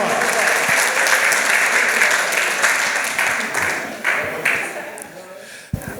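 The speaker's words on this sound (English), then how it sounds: "Give her another round of applause" An audience applauds a guest at an evening tribute event, sustained loud clapping that fades somewhat toward the end, with a few voices mixed in beneath it.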